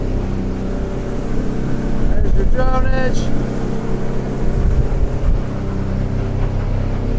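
A 2017 Edge Marine 23'7" boat with a Yamaha 250 outboard running at speed over waves, a loud steady engine drone that rises briefly as throttle is added, with someone talking over it.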